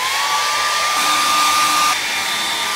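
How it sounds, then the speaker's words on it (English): A hair dryer blows steadily and loudly while drying and stretching a denim off-the-shoulder dress aboard a Bahamas cruise, a constant whooshing roar with a faint whine, no talking. "I'm just stretching it and blow drying it with this blow dryer"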